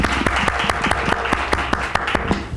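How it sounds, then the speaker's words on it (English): An audience breaks into applause to welcome a speaker, a steady patter of many hands with a few distinct sharp claps standing out, close and lively throughout. "let's give a round of applause to welcome Eboné"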